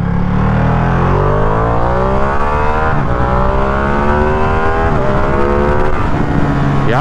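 Ducati Streetfighter V2 motorcycle engine revving in first gear, loud and close, sweeping up through repeated rising rev climbs and brief drops in a continuous howling roar, with no talking.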